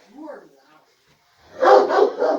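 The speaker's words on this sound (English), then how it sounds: "Max, be nice to the dog" A dog barks three times in quick succession, close and loud, after a brief murmur of a voice and a stretch of near silence.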